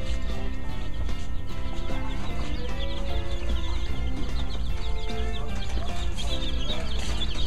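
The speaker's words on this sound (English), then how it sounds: "These here are turkeys." Turkeys gobble and cluck continuously over a constant low hum of machinery, a busy chorus of poultry calling inside a store in Missouri.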